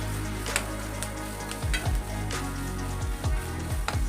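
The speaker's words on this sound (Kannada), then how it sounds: "ಸರಿ ಕೆಂಪನ ಮುಟ ಫ್ರೈ ಮಲ್ಪೊಡು ಇಂಚನೆ" Spices and masala frying in a pan for egg puffs, a continuous close sizzle with repeated stirring scrapes and clinks.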